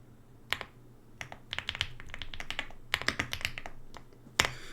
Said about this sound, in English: And then I'm going to type in my message here.